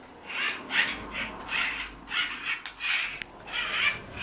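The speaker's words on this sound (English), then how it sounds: "Keep cranking, Theodore." A hand crank is turned to test a dryer solenoid, producing a rhythmic rasping, grinding scrape repeating in regular pulses up close.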